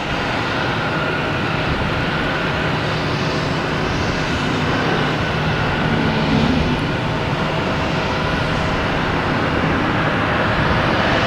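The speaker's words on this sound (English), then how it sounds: "Actually got a JetBlue coming in from Fort Lauderdale. Coming in the close runway." A JetBlue airliner arriving from Fort Lauderdale lands on the near runway at Boston Logan Airport, a loud, steady jet engine roar that fills the whole stretch with no talk.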